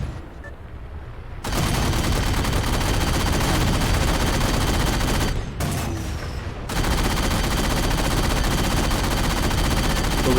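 Sustained, loud automatic gunfire from an allied character in a video game, nearly continuous for several seconds with a brief pause midway, and no talking.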